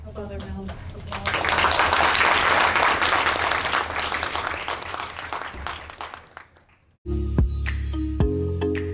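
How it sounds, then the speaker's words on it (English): A roundtable panel audience breaks into sustained applause that swells, holds and tapers over several seconds, then stops abruptly as a nearby voice begins speaking. "How about a round of applause?"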